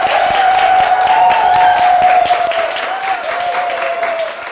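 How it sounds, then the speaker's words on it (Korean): A roomful of people claps together in a loud, dense burst at a classroom talk, steady hand claps over a sustained ringing tone, easing slightly partway through and then tapering off. "박수 한번 쳐볼게요"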